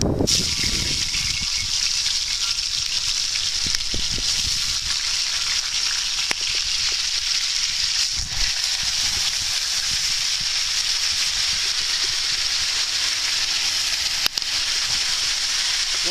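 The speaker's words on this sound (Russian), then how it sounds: "вот засыпаем картошечку. Очень горячее масло, очень горячее масло." Potatoes dropped into very hot oil in an open pan on a camping-style skillet, sizzling and frying steadily and loudly throughout, a continuous dense hiss with occasional pops and stirring clinks, no talk.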